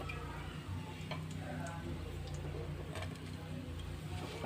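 Onions browning in a pan for chicken and potato biryani, a steady low sizzle under occasional clicks and scrapes from stirring, faint and continuous.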